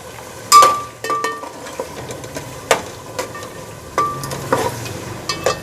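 Peas are stirred into softened tomatoes in a cooking pot for matar pulao, with a low sizzle under sharp intermittent scrapes and clinks of a spoon against the pot, close and fairly loud.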